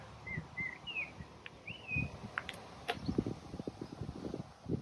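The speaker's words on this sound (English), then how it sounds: "There's a bird in the tree." A few thin, high bird chirps and short whistled calls at a moderate distance, over a low background rumble and occasional scuffing noises.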